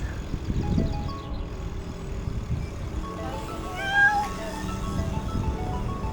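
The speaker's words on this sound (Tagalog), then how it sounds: "Pusa." A cat meows nearby along an alley during a weekend bike ride, a few short cries over rolling road and traffic noise.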